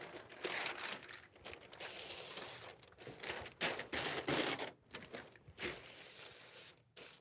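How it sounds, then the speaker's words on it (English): Plastic vapor barrier sheeting crinkles and rustles continuously as it is laid down over a seam during radon mitigation work, with irregular crackling bursts close by and no talk. "Okay, so now I'll lay the vapor barrier down over that seam."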